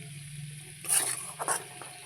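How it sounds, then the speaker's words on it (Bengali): Cauliflower curry with a pinch of sugar being sautéed and stirred in a pan, a quiet hiss that swells into two brief sizzling bursts as the spoon moves, close and without speech. "দেখো ভালোভাবে কষে নিচ্ছি"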